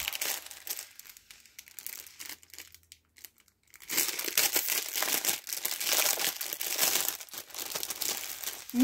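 Paper wrapping crinkling while a diamond painting kit is unboxed, close and loud crackling bursts, then a quiet pause, then a longer stretch of continuous rustling and crumpling.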